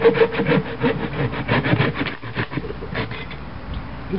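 A Corona 10-inch folding saw cuts through wood in quick, rhythmic back-and-forth strokes, each rasping pass close and distinct, with a brief pause midway.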